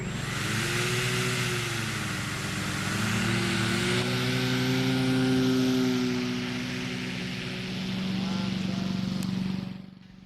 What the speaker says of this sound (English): Actually, I was just wanted to test the motor thrust, but it took off by itself